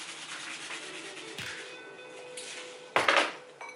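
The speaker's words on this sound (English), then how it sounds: "I'm going to have my hemp hearts and just sprinkle some of those bad boys on here." Hemp hearts scattered by hand onto avocado toast give soft, light pattering and rustling, with a brief clatter near the start and a sharper burst of crisp sprinkling toward the end.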